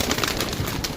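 Golden desi pigeons coo close by in a short run of soft, throaty, pulsing calls.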